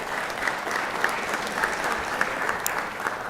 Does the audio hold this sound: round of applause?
yes